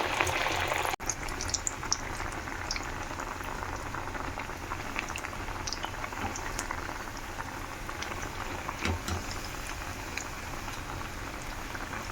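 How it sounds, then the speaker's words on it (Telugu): Corn kernel vadas sizzle in hot oil, a steady close bubbling and crackling that holds evenly throughout, with one brief knock near the start and no talking. "రెండు మొక్కజొన్నలు వడ బాగా ఫ్రై అయ్యాయి కదండి"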